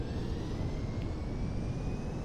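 An airplane engine in Grand Theft Auto V drones steadily with a broad, even roar and a faint rising whine, continuous and fairly close with no talk.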